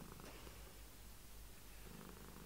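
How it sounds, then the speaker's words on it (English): A contented cat purrs steadily and close up during a cuddle, a low continuous rumbling throb with a soft rhythmic pulse that holds at an even level throughout. "Listen to that purr."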